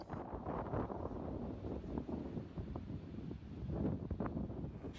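Strong gusting wind during a storm in Europe buffets the microphone, a low rumbling roar that rises and falls irregularly throughout, with no speech.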